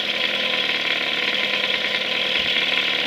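A 1955 Mercury 5 HP Mark 5 outboard motor idles steadily and close by, a continuous even engine drone with no voices over it.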